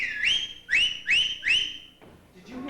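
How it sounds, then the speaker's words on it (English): A man whistles four loud rising calls in a quick, even series, each swooping up and then holding its pitch, followed by a short pause. "Did you hear Dad whistle?"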